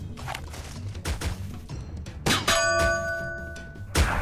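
A bell struck by gunfire in the Sam & Max Season 2 adventure game, a loud metallic clang at about two and a half seconds with a long ringing tone that slowly fades, preceded by softer thumps and scattered game noise.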